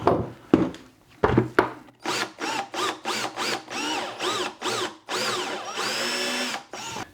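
Power drill boring a hole in plastic with a large bit for a gravity slip pump, a few sharp clicks, then a run of short rising whirring bursts, close and loud with brief pauses between, no talk.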